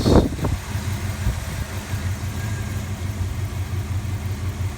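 A 1984 Chevrolet Monte Carlo SS engine idles steadily and smoothly at close range, a low even rumble after a brief louder burst at the start, with no talking.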